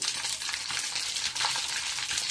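Mustard seeds and a little fenugreek sputter in a hot pan for a pickle, a steady close crackling sizzle with small popping bursts throughout, no voices.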